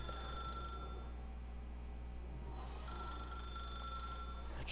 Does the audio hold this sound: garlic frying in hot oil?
no